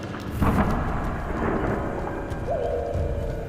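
Cartoon-style thunderstorm effect: a loud thunder crack and rumble over steady heavy rain, with a sustained whistling wind tone rising near the end, no voices.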